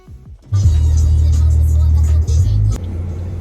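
A car driving along a road in Calgary, Canada, heard from inside as a loud, steady low engine and road rumble that begins abruptly and holds for a few seconds.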